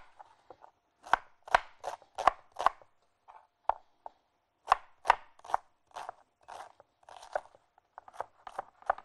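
Onions chopped with a knife on a cutting board, a run of crisp, sharp chops in quick bursts with short pauses, close and clear with no voices.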